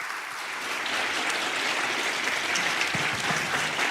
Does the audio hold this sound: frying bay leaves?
no